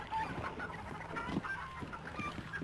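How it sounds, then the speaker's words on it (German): Chickens in the video game Hunt: Showdown cluck in a scattered, continuous run of short calls at moderate level with a busy game ambience underneath. "Machen die Hühner so wegen dir?"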